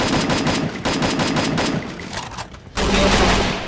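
Rapid automatic gunfire rattles in Free Fire, a burst of closely spaced shots followed by a brief lull and then another dense, loud volley.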